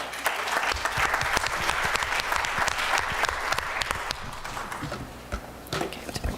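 An audience at a plenary session on affordable housing claps steadily to welcome a speaker, a full room of hands that holds and then thins toward the end.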